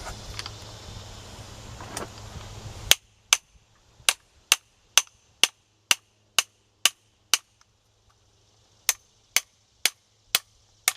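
Sharp metallic hammer taps seat a front wheel bearing, about fifteen crisp, evenly spaced strikes close by after a brief stretch of low background rumble, with a short pause before the last few.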